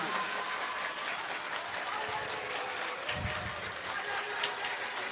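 A church congregation applauding during a Sunday worship service, a steady wash of clapping from many hands at moderate distance, with a brief low thump partway through.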